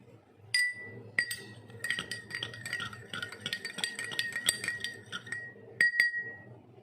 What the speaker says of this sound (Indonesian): di sini kita akan coba mencampurkan air dengan susu